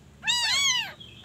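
A motherless kitten gives a single loud, high, wavering meow up close, and a second faint cry starts right at the end.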